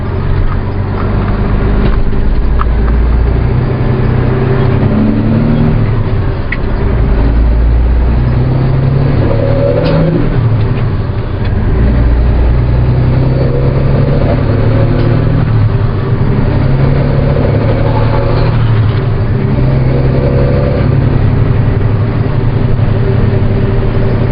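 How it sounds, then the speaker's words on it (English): A loaded semi truck with a straight pipe exhaust drives along, its deep, loud, rumbling drone heard steadily from in the cab, with low engine pulses rising and falling through gear changes and no voices. "just a little over a year into driving a straight pipe truck"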